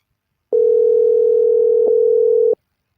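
A telephone dial tone on a call-in show line: one steady, loud, unbroken hum that lasts about two seconds alone before cutting off into silence.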